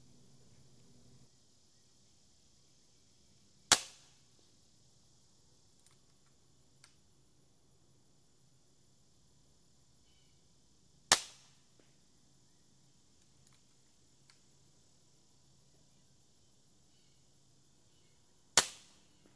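A .30 Evanix Rainstorm II air rifle fitted with an airstripper fires three sharp, isolated shots several seconds apart, each a crisp crack against near silence.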